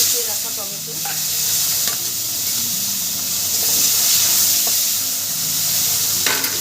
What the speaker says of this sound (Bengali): টমেটোটা দিয়ে আমি দু মিনিট ভেজে নেব